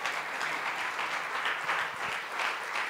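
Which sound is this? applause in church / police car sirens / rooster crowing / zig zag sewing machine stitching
applause in church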